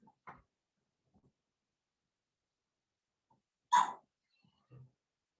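A bulldog puppy makes a few soft, scattered noises, small snorts and a brief yip or whimper, separated by long silences, close by and otherwise quiet.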